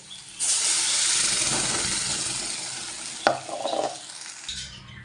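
Ground taro paste hits hot oil in a pan with a loud, sudden hissing sizzle that gradually fades, broken by a sharp utensil knock and a brief stirring scrape near the end.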